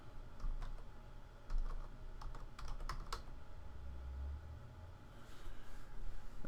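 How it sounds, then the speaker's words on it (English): Fingers type on a computer keyboard, entering a character name in the game Second Life: quick, irregular bursts of close clicks with short pauses, no voices. "I'm going to type in the name of my alt."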